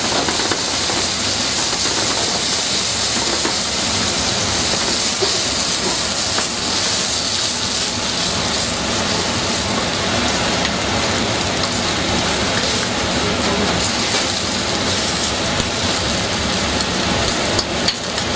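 Steady loud hiss and sizzle from a pan of lobster and okra stew as water is poured in, continuous broadband spattering with no talk.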